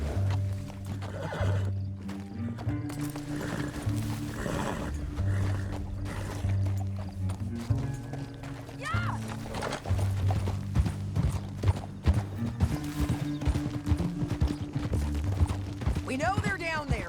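Horse neighing and hooves in Red Dead Redemption 2 set near the Grand Canyon, loud whinnies over a steady clip-clop, with a sustained music bed and voices talking throughout.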